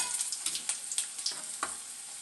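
Curry leaves and ginger frying in oil for mango pickle, a fairly quiet sizzle broken by sharp spattering pops at irregular intervals, no talk.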